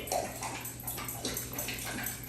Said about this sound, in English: Ignore Tuck's like totally lapping up his water.